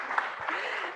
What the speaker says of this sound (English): Lydia, let's give her a round of applause.